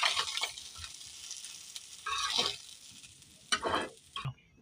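Fish frying in hot oil in a wok crackles and sizzles in uneven bursts, with stirring scrapes and louder spits near the end, close and without talk.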